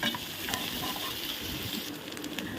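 Onions and tomatoes sauté in a pan with a dense, busy sizzle and crackle, heard close and fairly loud for a couple of seconds, with a few brief sharper spits and no talk.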